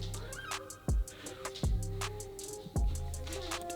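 A house cat, one of five, meows softly a few times at a distance, with some low thuds in a quiet room.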